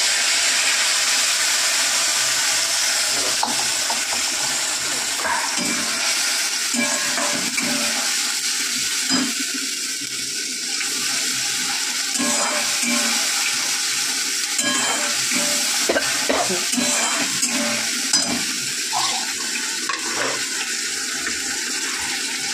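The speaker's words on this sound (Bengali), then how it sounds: "তেল তো গরম হয়ে গেছে, তেলের মধ্যে পেস্ট করে রাখা মশলাটা দিয়ে দেবো।" Spice paste frying in hot oil in a pan, a loud, constant, dense sizzle with small crackles and stirring noises scattered throughout.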